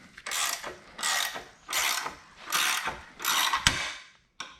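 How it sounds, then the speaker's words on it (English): A ratchet wrench with 19 mm and 24 mm sockets cranks in five rhythmic bursts of clicking as it removes a subframe bushing from an E39 M5 Touring wagon, close and fairly quiet. "Watch how easy this bushing comes off."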